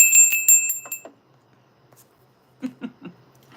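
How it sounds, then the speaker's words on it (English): A bell is rung on a tarot reading livestream to mark a super chat, a bright ringing burst that fades out, followed by quiet and then a few soft, low taps near the end. "I know I ring the bell for super chats"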